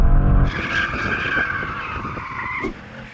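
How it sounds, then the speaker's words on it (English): A BMW M8 Gran Coupe in two-wheel-drive mode skids hard, tyres squealing loudly and steadily over a roaring engine after a brief throttle blast at the start. "Then you can do some skids."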